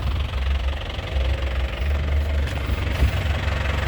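A black 2007 touring turbo car with about 120,000 km sits idling during an exhaust check, a steady low engine rumble with faint knocking and vibration running continuously and fairly close.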